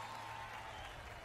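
A festival crowd gives faint, steady applause for a musician during a folk performance at Festival Bum Bum. A sustained tone from the stage sound carries through the clapping.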